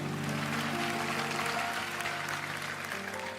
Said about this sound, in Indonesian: Berikan tepuk tangan buat kalian.